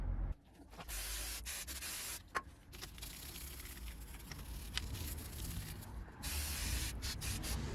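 Brake parts cleaner hisses from an aerosol can onto a Renault Clio wheel hub, long steady close bursts of spray broken by brief pauses, with faint scrubbing and rubbing between.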